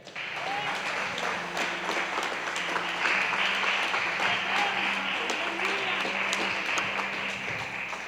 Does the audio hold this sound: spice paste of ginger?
no